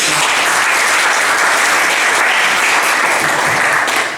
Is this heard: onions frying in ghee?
no